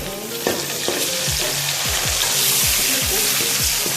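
Tomatoes hit a hot pan in a home kitchen and sizzle loudly, with a dense crackling hiss and repeated stirring scrapes and clinks in a quick rhythm.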